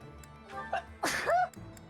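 A single human sneeze, short and fairly close, with a faint breath before it and a quiet background.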